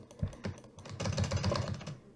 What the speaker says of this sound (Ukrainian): Якщо буквою А на клавіатурі я дуже добре спамлю.